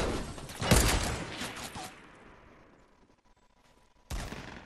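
Fortnite gunfire, with a loud burst of shots at the start that fades into quieter trailing reports, then another sharp shot at the end.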